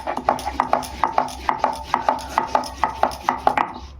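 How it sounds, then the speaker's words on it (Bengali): Cumin being ground by hand on a grinding stone, a regular rhythm of dull knocking strokes, about three per second, close and moderately loud with no voices. "জিরেটা বেটে নিই।"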